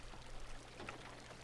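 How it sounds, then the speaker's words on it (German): Water running off in a Minecraft world, a soft, continuous pouring wash heard alone at low level. "Und das Wasser läuft wieder ab."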